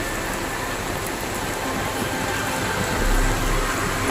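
Strong rain falls over Dumaguete City, a dense, continuous hiss of downpour that stays steady and loud throughout, with a brief low rumble near the end.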